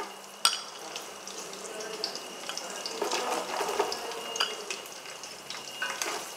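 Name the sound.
cashews and raisins frying in oil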